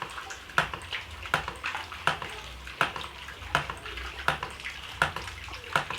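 Water pours steadily from the outlet pipe of a hydraulic ram pump, a continuous splashing flow punctuated by regular sharp knocks or surges roughly every three-quarters of a second.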